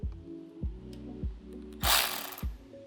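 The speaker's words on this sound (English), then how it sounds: "take your 5mm Allen key, and we're gonna go ahead and loosen this back bolt here" Ratcheting clicks from a 5mm Allen key loosening a rear fender bolt, about five evenly spaced metallic clicks, close up, followed by a brief hissing rustle.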